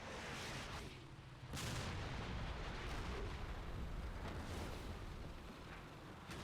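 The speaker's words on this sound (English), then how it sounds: "Just as my starships start to move, the artillery comes in hard." Artillery barrage in the video game Combat Mission Cold War: a dense, continuous roll of heavy booms and rumbling blasts, loud and sustained throughout with no pauses.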